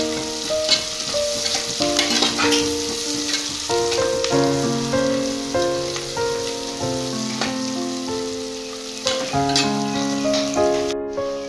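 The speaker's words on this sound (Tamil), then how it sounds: "பாருங்க வெங்காயம் நல்லா வணங்கிட்டு இருக்கு." Onions with turmeric sautéing in oil for coriander biryani, with a steady close sizzle and repeated stirring scrapes and clinks in the pan, and no talking.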